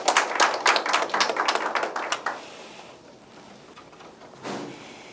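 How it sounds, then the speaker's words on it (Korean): Audience at an online forum clapping to welcome a professor, a short burst of brisk close applause that stops after about two seconds, then a quiet room with one faint rustle. "여러분 이장희 교수님 큰 박수로 환영해 주시기 바랍니다"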